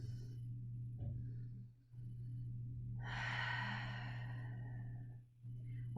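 Deep, slow breathing during a yoga flow, with a long audible breath swelling in the middle over a steady low background hum; soft and close, no talking.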